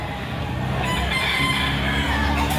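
A Kalawan gamecock crows amid the busy din of a Saturday chicken market in Lipa, Batangas, its call sitting under constant crowd noise rather than standing out alone.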